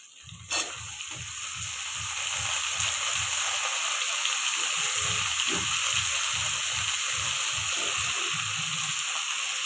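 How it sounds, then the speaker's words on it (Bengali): Cauliflower sizzles in hot oil in a pan, a loud, steady hiss that fills the whole clip, while a soft rhythmic scraping or stirring thumps along beneath it after an early clatter. "এখন আমি কবিটা ভেজে নিব।"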